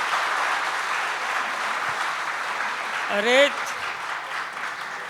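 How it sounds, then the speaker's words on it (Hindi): Audience applause at a pre-budget seminar, a steady broadband clapping that fills the whole stretch at moderate loudness, with a brief spoken exclamation from a man near the end. "आप लोग तालियों में 10 सेकंड ले जाते हो मेरा"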